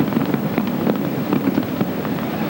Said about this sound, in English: They're using 18 tons of fireworks, and it's a joint effort of a British fireworks and a Chinese company.